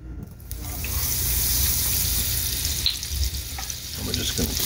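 Shrimp sizzling and frying in a pan of hot olive oil and butter, a steady close crackling hiss that holds loud and even throughout with no voices.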